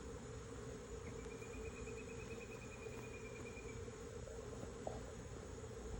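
Honey bees swarm around a hive inside a meter box, a steady insect drone running continuously at moderate distance, with a faint high whine drifting through part of it.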